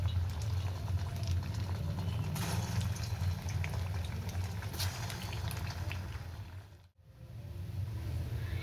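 Chira (flattened rice) fritters fry in hot oil in a wok over a low-to-medium flame, giving a steady, dense sizzle throughout with a brief dip near the end before the crackle resumes.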